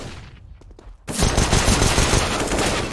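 Counter-Strike gunfire on the Dust2 map: after a quiet second of faint clicks, a loud, dense burst of rapid automatic shots erupts and keeps rattling close by without pause.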